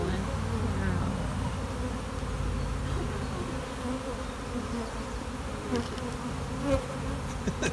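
Honey bees buzz steadily from an open hive during a beginners' hive inspection, a dense continuous drone that stays close and loud throughout with a few faint clicks near the end.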